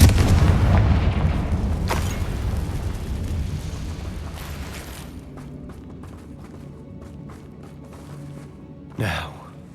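The Confringo blast spell detonates in Hogwarts Legacy with a heavy, close boom that rolls into a long, fading rumble. Near the end comes a short breathy vocal sound.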